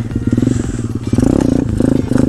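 Pit bike engine revving hard and choppy while popping wheelies in first gear, a loud, close, rasping buzz that surges and dips in quick pulses with some clatter.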